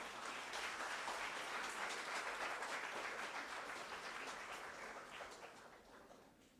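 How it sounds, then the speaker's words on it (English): Warm applause at an alumni silver jubilee meet as a guest is welcomed, a sustained crowd clapping that stays steady for several seconds, then gradually thins and fades toward the end. "let us welcome Bipin sir with a warm round of applause."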